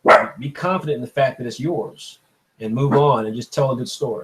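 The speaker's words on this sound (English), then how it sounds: "In the middle of all that important talk, my dog decided to bark" A dog barks a few times in the background of a live online manga contest winner reveal, partly masked by someone talking steadily close to the microphone.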